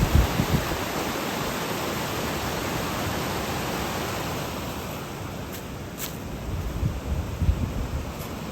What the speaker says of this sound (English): There's this big waterfall.